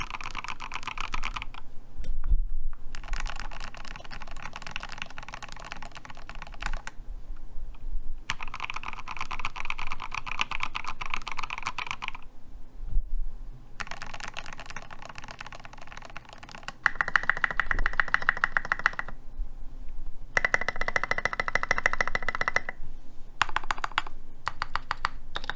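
Steady bursts of typing on a mechanical keyboard with a brass plate and lubed 62-gram linear switches, with dense key clacks in runs broken by brief pauses, close and clear, with no talking.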